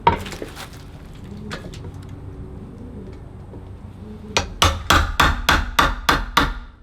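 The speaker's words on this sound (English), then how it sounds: "We're gonna chisel this one, then we'll turn it the other way, chisel the other side" Mallet strikes on a chisel cutting into a wooden self bow, a few scattered knocks followed by a run of about eight sharp, evenly spaced hits, close and loud.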